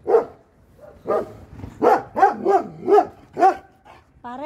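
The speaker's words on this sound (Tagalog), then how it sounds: "Kalaki yung aso." A large dog barks close by in a series of deep, resonant woofs, about six or seven in an uneven rhythm, followed by a brief whine at the end.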